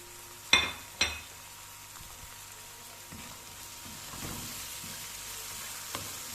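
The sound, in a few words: tomatoes frying in a pan for stuffed egg curry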